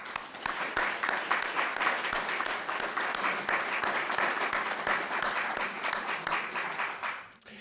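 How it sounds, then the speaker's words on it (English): An audience at a Russell Kirk Center for Cultural Renewal event claps steadily, a dense, even applause that holds throughout and tapers off at the end. "Please join me in a round of applause."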